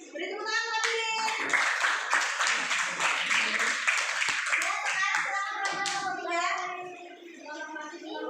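A school class claps hands together in quick, uneven bursts, with children's voices mixed in and calling out over the clapping before it thins out near the end.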